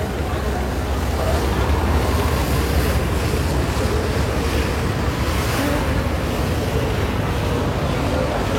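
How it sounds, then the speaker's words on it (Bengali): Strong wind blows over a river aboard a passenger launch on the Dhaka to Ilisha route, a loud, steady roar that mixes with the rush of water and never lets up. "আর বাতাস হচ্ছে প্রচুর নদীতে এই মুহূর্তে।"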